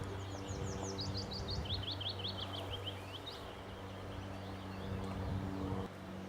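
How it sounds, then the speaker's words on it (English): Willow warblers sing outdoors in May beside a bank of flowers, with repeated high, sweet descending phrases in quick succession, fairly distant, over a steady low hum. "it's that time of year you can hear willow warblers"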